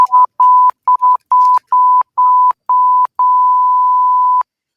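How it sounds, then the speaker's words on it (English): A run of loud electronic censor beeps, about eight steady tones of varying length separated by short gaps, the last one held longest, with nothing else heard. "YouTube is gonna do default censor beeps."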